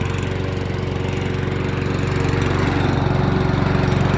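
A Brast 200cc 6 hp lawn mower engine runs close by with a steady, even drone that holds at constant speed, with no other sounds.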